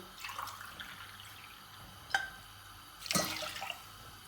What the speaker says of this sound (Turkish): suyunu ilave ediyorum